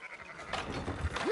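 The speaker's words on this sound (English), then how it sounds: "Fine sheep." Sheep bleat briefly in Red Dead Redemption 2, a short nasal cry rising at the end over a soft outdoor game ambience.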